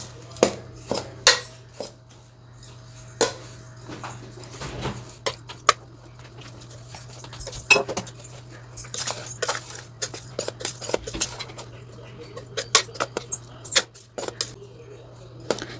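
A spoon scrapes and clinks against a bowl while ragi puttu is mixed with country sugar, giving irregular bright taps and scrapes with a faint voice in the background.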